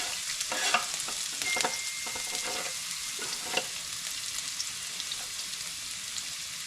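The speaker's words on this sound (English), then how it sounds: "You can hear that sizzling away, and now we're just going to fry that off for a moment" Steady crackling sizzle of chopped onions frying in a hot pan, with occasional louder pops and stirring scrapes, close up and without talk.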